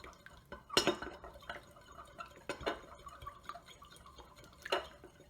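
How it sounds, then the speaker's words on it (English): Powdered egg is stirred with water in a container, giving faint scattered clinks and liquid sloshing with a few sharper taps against the vessel, quiet and close. "Give it a good stir."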